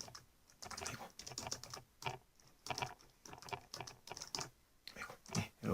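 Fast, close clicking of keys on a computer keyboard in bursts of quick strokes with short pauses, clear and alone.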